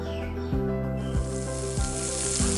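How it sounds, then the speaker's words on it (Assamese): Garam masala sizzles in a hot karahi, a steady close hiss of frying with a few soft stirring scrapes recurring every half second or so. "প্ৰথমতে কেৰাহীখন অকণমান গৰম কৰি তাত গৰম মছলাখিনি দি দিছোঁ।"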